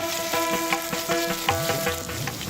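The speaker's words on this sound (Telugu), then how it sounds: "ఇవి కొంచెం వేగాక పచ్చిమిర్చి, ఎండుమిర్చి, కరివేపాకు, 1 స్పూను అల్లం వెల్లుల్లి పేస్ట్ వేసి పచ్చివాసన పోయే వరకు వేపాలి." Green and dry chillies, curry leaves and ginger-garlic paste fry in a pan, a loud close sizzle broken by rhythmic scraping stirs about twice a second.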